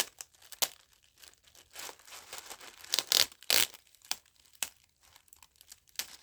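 Sticker slowly peeled up from a product box, a run of dry crinkling and tearing rasps with sharper bursts in the middle, close and fairly quiet with no voice.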